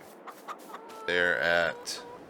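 Chickens in the farming video game Farming Simulator 22, with a few short clucks followed by a long, loud rooster-like crow and one more call, heard close with no talking.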